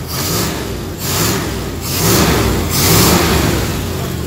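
A 1954 Oldsmobile engine with an exhaust leak runs loudly nearby, revving up and down in waves with a raspy, rumbling exhaust note throughout.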